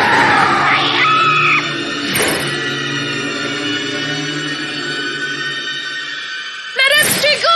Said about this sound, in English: We heard a scream!